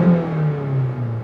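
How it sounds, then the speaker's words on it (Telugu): A Maruti Suzuki Fronx Delta Plus petrol engine, heard from inside the cabin, rises in a steady hum as it revs under acceleration, with a smooth, continuous drone and no talking. "ఒకసారి యాక్సిలరేటర్ ఇస్తా చూడండి."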